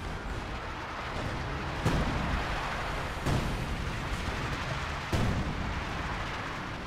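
Su-76 self-propelled guns fire artillery in Company of Heroes 2, three heavy booms spaced about a second and a half apart over a dense, rumbling battlefield din of distant explosions and gunfire.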